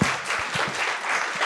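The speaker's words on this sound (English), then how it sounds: "a good applause, Ryan" Steady applause from a crowd, a dense wash of clapping hands with no voices standing out.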